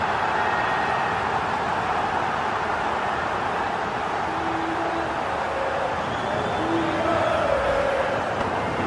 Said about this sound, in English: The crowd have gone crazy, and quite rightly so.